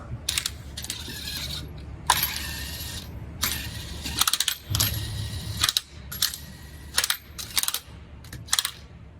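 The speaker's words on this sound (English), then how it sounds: "Torque the wheel to 76 foot-pounds." A wrench tightens the wheel lug nuts on a Lexus, giving bursts of metallic ratcheting clicks in several quick runs with short pauses, close and fairly loud, with no voices.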